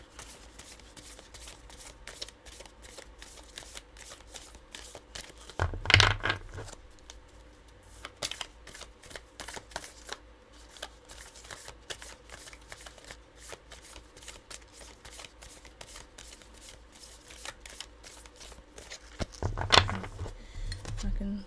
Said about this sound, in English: I'm going to do 3 shuffles.